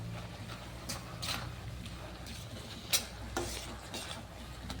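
Cream being stirred into carrot halwa in a pan, with faint scraping and a low sizzle under a steady hum, plus a few brief clinks of the utensil, quiet throughout.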